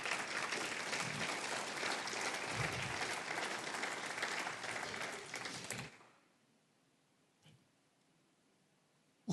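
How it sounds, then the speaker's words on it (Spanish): A church congregation applauding during a service, a loud, even burst of many hands clapping that fades out after about six seconds into near silence with a faint tick. "Dale un fuerte aplauso al Señor."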